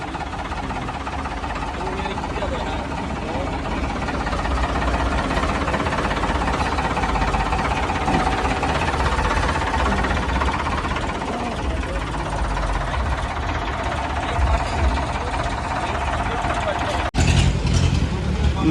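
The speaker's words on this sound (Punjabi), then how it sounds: "ਟਰੈਕਟਰ ਦਾ ਵਧੀਆ ਆਵਾਜ਼ ਉਹ ਤਾਂ ਖਰੀਆ ਟਰੈਕਟਰ ਦੀ" A tractor engine runs at a scrap market in Patiala, a steady low rumble with a knocking texture that continues throughout, ending in a brief louder burst near the end.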